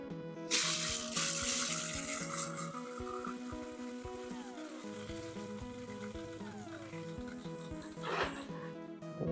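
Water pours steadily into a small tray, soaking the growing medium around field-grown larch seedlings, with a continuous splashing trickle that swells briefly at the start and again near the end.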